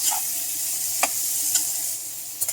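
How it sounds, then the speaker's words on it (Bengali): Onions frying with a pinch of salt over a high gas flame hiss in a steady broad sizzle, broken by a few sharp scrapes of a spatula against the pan, with no one talking. "এবার এর মধ্যে আমি সামান্য পরিমাণে নুন দিয়ে পেঁয়াজটাকে ভালো করে ভেজে নেব"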